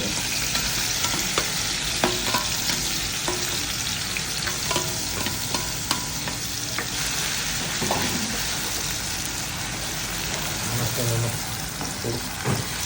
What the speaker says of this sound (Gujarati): તેલ ગરમ થઈ ગયું. એક ડુંગળી, એક મરચું, 8-10 લસણની કળી, અચ્છા 3 કળી, સિંગ.